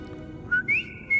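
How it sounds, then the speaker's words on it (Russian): In Hogwarts Legacy, a character gives a few short rising whistle notes, faint and alone over a quiet background hum. "Свистит."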